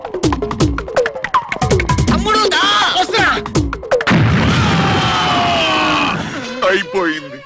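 A bomb blows up in a Telugu comedy film scene. A heavy, rumbling blast with crashing debris erupts after some strained vocal sounds and rings out for about two seconds before fading.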